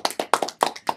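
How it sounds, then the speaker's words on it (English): Clapping from a small group of boys for a young girl who won a local MP's Christmas card competition, several distinct claps in a quick loose rhythm, close and clear with no talking. "Round of applause, boys"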